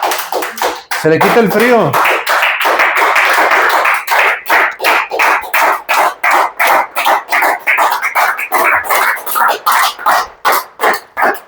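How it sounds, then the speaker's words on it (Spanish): A church congregation claps for the Lord, breaking into loud, rhythmic clapping in unison, about two claps per second. Someone speaks briefly as the clapping begins, then the steady beat carries on alone. "Denle un aplauso al Señor"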